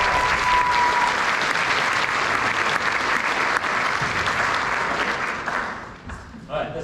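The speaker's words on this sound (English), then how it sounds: "How about another round of applause" Audience at a jazz band concert applauding a singer: a dense, loud wash of clapping that carries steadily for several seconds before thinning and fading, with a few cheers mixed in.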